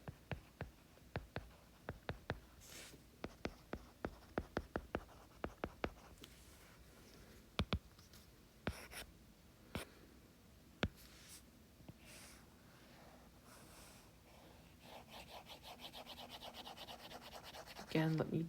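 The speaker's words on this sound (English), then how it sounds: "Again, let me draw." A pen drawing a pre- and post-reaction beaker diagram for a chemistry lesson, producing a run of close, crisp taps and scratchy strokes, sparse at first and then denser toward the end.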